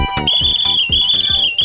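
Sustained shrill whistle tone blown steadily and loud for nearly two seconds, a single held note with slight wavering, over a busy background of other sounds.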